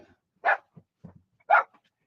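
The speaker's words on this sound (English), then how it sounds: "What are you whining about, Jack?" A dog gives two sharp, close barks about a second apart, with faint low whines and grumbles between them in an otherwise quiet room.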